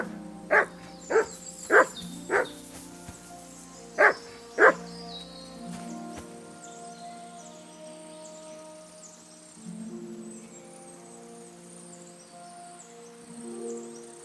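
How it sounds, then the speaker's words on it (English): A dog barks in Kingdom Come: Deliverance II, six sharp close barks in a quick irregular series, then quiet outdoor ambience with faint insects and a soft musical drone. "Good dog, Mutt"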